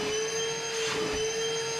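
A Milwaukee cordless vacuum cleaner runs steadily at close range, giving a constant high-pitched whine over a broad airy rush, with no talking.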